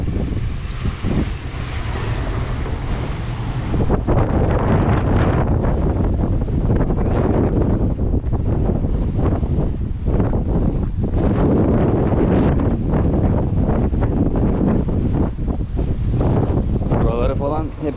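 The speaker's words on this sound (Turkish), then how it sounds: "Bugün de bayağı bir rüzgar var." Strong wind buffets the microphone on the deck of the cargo ship M/V Mehmet Aksoy at sea, a loud continuous roar with gusty bursts and sea noise beneath, and someone talks over it throughout.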